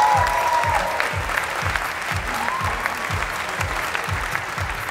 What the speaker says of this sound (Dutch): Dames en heren, een luid applaus voor staatssecretaris Suhail Demir!